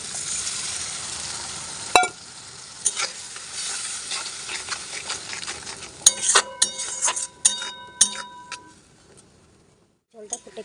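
Prawn curry with chili and poppy seed paste sizzles in a pan while a utensil stirs and scrapes it with clinks and knocks, growing busier midway before quieting, and a person talks faintly over the cooking.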